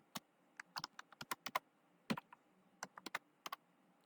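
Computer keyboard typing a search query, a sparse run of close, quiet key clicks in small irregular clusters with short gaps, in a quiet room.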